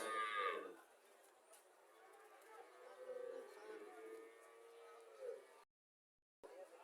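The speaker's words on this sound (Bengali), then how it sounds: "এখানে আরো একটা গাভী দেখা যাচ্ছে, চলেন।" A Sahiwal cow moos at a busy cattle market in Comilla, a drawn-out harmonic low call over faint background crowd noise, with a brief sharp sound at the start and a short gap near the end.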